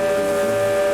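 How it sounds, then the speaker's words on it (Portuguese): A sustained, loud steam whistle blast from a locomotive, a steady multi-toned hoot held for the full second. "O apito anuncia que a Maria Fumaça vai partir."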